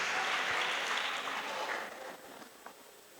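A church congregation applauds to acclaim the Lord during a prayer gathering for peace in Côte d'Ivoire, a dense wash of clapping and crowd noise that is loud at first and then gradually fades.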